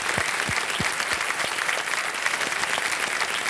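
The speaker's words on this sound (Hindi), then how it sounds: "एक बार तालियां बज जाए डॉक्टर साहब के लिए।" A studio audience on the quiz show KBC bursts into steady, full applause that holds at an even level for several seconds, with no voices over it.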